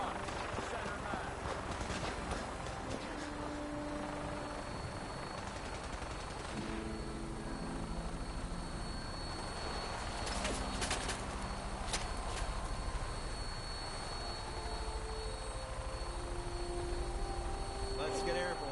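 A Vertibird aircraft in Fallout 4 lifts off amid a rhythmic rotor thump and mechanical whine, layered with game effects and rapid gunfire-like bursts, while voices talk over it.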